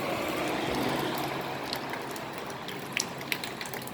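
Coolant dripping from a leaking water pump above the damper pulley on a BMW X6, heard as a few sharp, irregular drips and ticks near the end over a steady background hiss in a workshop.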